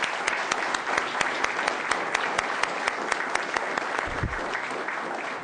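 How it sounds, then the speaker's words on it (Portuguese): Steady applause fills a Brazilian Senate inquiry hearing in São Paulo, a broad wash of many hands clapping continuously at even volume, with a brief low thump near the end. "e eu peço para o policial Marcos Akira uma salva de palmas."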